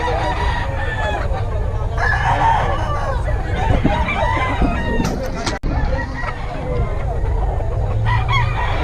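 Gamecock stags crowing repeatedly nearby over clucking fowl and background chatter, several overlapping cock-a-doodle-doo calls through the whole stretch.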